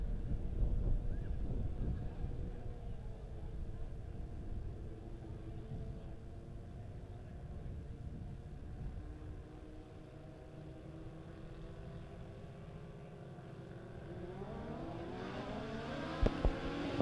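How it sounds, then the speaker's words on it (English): Legend race cars idle and rumble as they roll out onto a dirt track at Springfield Raceway before a heat race, a low steady engine drone with wind noise, building to rising revs near the end. "Legend cars rolling out onto the racetrack, getting ready for heat race number one"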